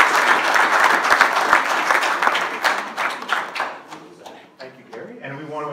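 An audience applauds at a local history event, a dense burst of many hands clapping that thins to scattered claps, then gives way to someone speaking.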